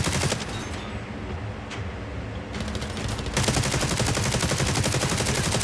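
The Bison gun in The Division Resurgence fires armor-piercing rounds in dense, rapid automatic bursts at close range, with a short break and then a sustained stream of fire, and no talk over it.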